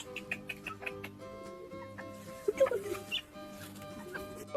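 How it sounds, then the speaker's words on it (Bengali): Chickens resting nearby in a rural yard cluck in short, irregular bursts, soft to moderate and fairly close, under faint background noise. "এদিকে আমার মুরগিগুলা বসে আছে আমাদের"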